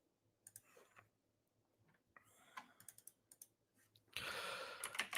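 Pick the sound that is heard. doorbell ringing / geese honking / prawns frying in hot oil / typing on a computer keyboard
typing on a computer keyboard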